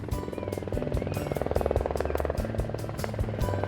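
A helicopter arrives at a restaurant helipad in Paris, its steady rhythmic rotor chop fairly close and continuous, with a low engine drone beneath it.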